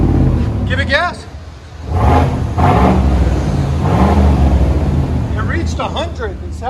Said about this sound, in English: It's pretty loud. You gotta remember it's sitting still. Give it gas.